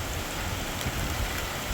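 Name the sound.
rain falling on backyard container garden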